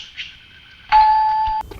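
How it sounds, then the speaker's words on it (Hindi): A doorbell rings once, a single sustained electronic tone lasting under a second that cuts off sharply, heard near over faint room sound. "किसे बजाई हमारी घंटी सर?"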